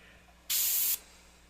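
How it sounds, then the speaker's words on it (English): An airbrush fires a single short burst of paint lasting about half a second during tiki-style artwork, a bright close hiss that starts and stops abruptly against a quiet room. "But I don't spray a lot of paint."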